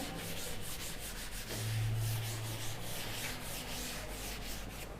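Steady, continuous rubbing of an eraser across a classroom blackboard, a broad scratchy hiss that holds at an even loudness for the whole stretch.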